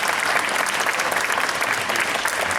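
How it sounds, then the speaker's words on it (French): Loud, dense audience applause at a company event, steady and close throughout, with no talk over it. "Je vous applaudis."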